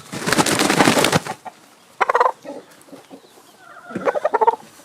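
A gamefowl rooster squawks and clucks loudly and close while being handled, a burst of harsh calling followed by shorter agitated squawks, with no talking.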